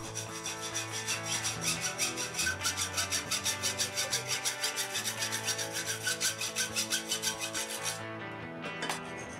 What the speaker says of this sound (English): I'm just cutting the rod with a hacksaw.